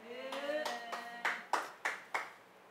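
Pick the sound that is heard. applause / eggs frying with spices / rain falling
applause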